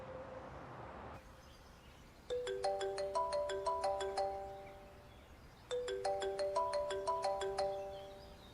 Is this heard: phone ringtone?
yes